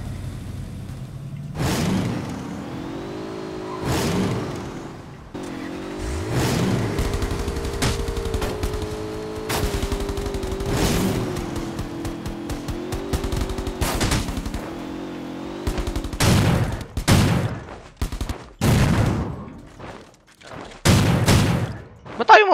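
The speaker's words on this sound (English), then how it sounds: "Gunshot!" Gunfire in the shooter game Rules of Survival, repeated bursts of rapid automatic shots and single loud cracks over a droning vehicle engine, with players talking excitedly throughout.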